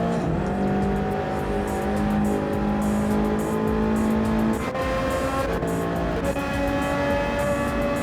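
A race car in the driving game Gran Turismo 7 roars along as the engine note climbs and drops through gear changes, then the car runs off onto the grass, loud and continuous with no talk.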